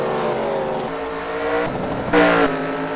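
Race cars roar along the front stretch of a Mexico City oval, their engines droning steadily with rising pitch and a louder surge near the end.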